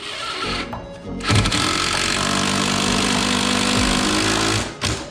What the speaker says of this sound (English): Now it's just a matter of throwing a few screws in around the outer edge here.